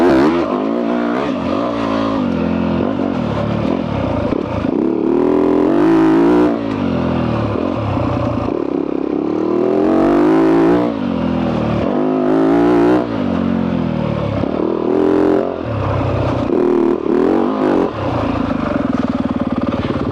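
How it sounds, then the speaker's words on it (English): A dirt bike engine out on a trail, loud and close, revving up and down in repeated surges and settling between blips, running steadily for the whole stretch with no talk. "Now if I get my bike started."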